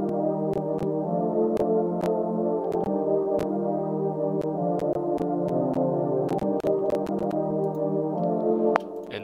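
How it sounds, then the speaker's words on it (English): A soft, airy synth pad from the Nexus plugin, with its low end cut and mids lifted, carries a melody in a trap beat, sustained steady chords punctuated by sharp percussive clicks, with no one speaking. "the next thing I did was I opened up a pad that I found in Nexus."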